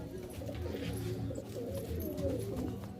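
Pigeons cooing in a loft, low throaty coos repeating and overlapping at close range, with faint chirps and rustling around them.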